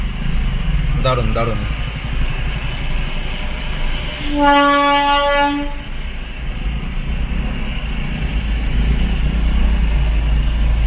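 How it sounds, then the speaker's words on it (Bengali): A Darjeeling heritage toy train engine approaches near Ghum station, its rumbling rail noise under a loud sustained horn blast of a couple of seconds midway, while someone speaks briefly over the passing engine. "এই যে টয় ট্রেন আসছে,"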